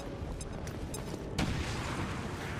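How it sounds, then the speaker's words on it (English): In XCOM 2, a thrown grenade goes off partway through with a sudden dull boom that lingers as a rumbling wash, after a few quieter clicks and a low ambient hum. "let's throw the grenade to see if I can remove cover with the grenade"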